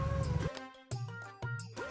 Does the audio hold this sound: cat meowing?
yes